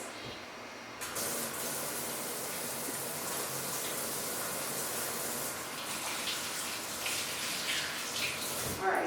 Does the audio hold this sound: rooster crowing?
no